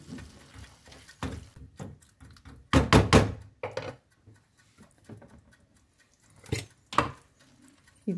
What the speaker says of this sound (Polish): To wszystko zamieszam.